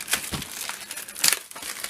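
Scissors slice open a plastic comic book bag with brief crinkling, tearing bursts, close and fairly quiet, with a sharper crackle near the end.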